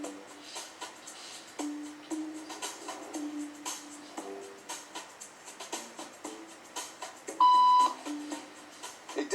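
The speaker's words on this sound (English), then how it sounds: "Beep means stand up." A short electronic beep tone sounds once, clear and steady, during a social conformity experiment in a waiting room, standing out above a background of shuffling movement and room noise.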